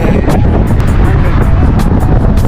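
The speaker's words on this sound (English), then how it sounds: "So windy." Strong wind buffets the microphone outdoors, a loud, continuous low roar with gusty rumbling bursts throughout and no voices.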